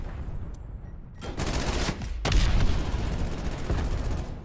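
A PPSh submachine gun fired in Call of Duty Black Ops Cold War, two long rapid-fire bursts with a short gap between them, loud and close with no voices.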